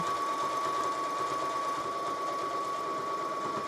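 A sewing machine runs continuously, its rapid mechanical stitching rattle steady and close throughout.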